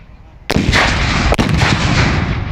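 Cannon firing at a US Civil War re-enactment: one sharp, very loud boom, then a long rumbling roar and a second crack part way through, close by with no talking.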